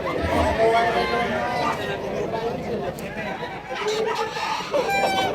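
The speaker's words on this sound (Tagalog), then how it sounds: "Ibang klaseng manok." Chickens of an unusual breed clucking and cackling in a busy, noisy pet market in Bulacan, with people talking nearby throughout.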